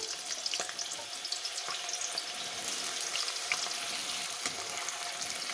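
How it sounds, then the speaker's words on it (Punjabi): Potatoes fry in well-heated oil in a kadai with a continuous crackling sizzle, punctuated by light stirring scrapes, fairly quiet and without any talking. "ਇਹਦੇ ਵਿੱਚ ਅਸੀਂ ਆਲੂ ਪਾ ਕੇ ਫਰਾਈ ਕਰ ਲਾਂਗੇ"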